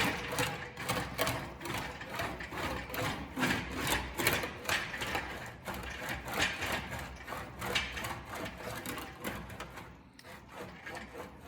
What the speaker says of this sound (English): I'll use this flat wheel to get the marks out of the metal. And it goes really fast.